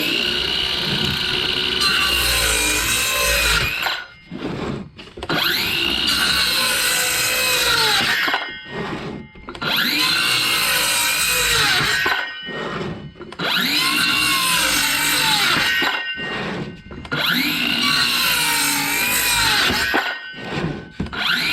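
A Craftsman 20V cordless 6 1/2 inch circular saw cuts through wood in several long, loud passes, each a sustained whining rip separated by brief pauses as the blade spins down.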